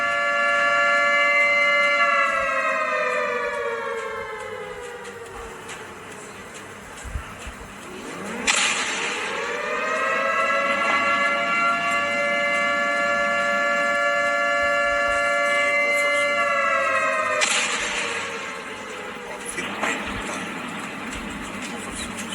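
Long rising and falling civil defense siren wails, several layered tones sweeping up and holding, loud and sustained with brief dips between cycles.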